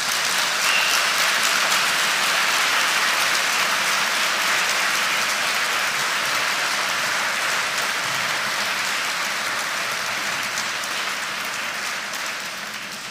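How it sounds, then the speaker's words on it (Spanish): A church congregation applauds during a Spanish-language sermon, producing a loud, dense, continuous roar of clapping that holds steady for the whole stretch and eases slightly at the end, with no voices over it. "Dale un fuerte aplauso al Señor."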